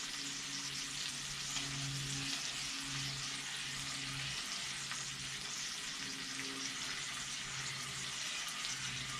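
Cornstarch is stirred into teriyaki sauce sizzling on a Blackstone griddle. A steady, close frying hiss continues throughout, with a low repeating hum underneath and no talking.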